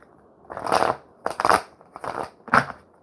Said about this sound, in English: I guess it's time to stop shuffling.